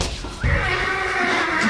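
A horse whinnies loudly and close, the call rising at first and then holding a long wavering tone for more than a second, with no other sounds around it.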